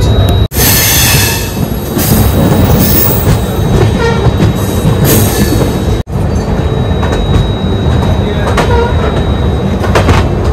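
Padatik Express train rolling into Kishanganj station, a loud continuous rumble of wheels and carriages with clattering rail joints and faint squeals, heard from on board, nearly unbroken throughout.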